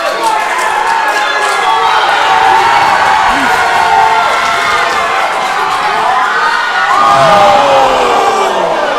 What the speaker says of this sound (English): And now this crowd is hot for Plitt.